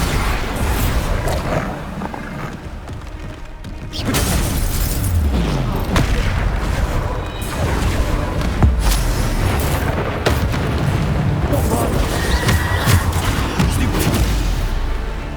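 Repeated Bombarda spell explosions in the Hogwarts Legacy video game, heavy booming blasts following one another in a loud, continuous barrage of combat noise with faint voice underneath.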